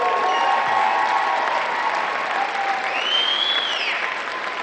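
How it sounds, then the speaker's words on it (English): Audience applause for Mary Ann at a Unity Festival evening event, a steady wash of many hands clapping throughout, moderately loud and sustained, with no one talking over it. "let's give her another round of applause"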